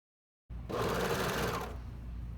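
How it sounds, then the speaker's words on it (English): A serger stitches a sweatshirt neckband seam, starting abruptly from silence into a fast, loud, close whir that holds steady for about two seconds. "I always serge from the inside like this so I can see all of those edges"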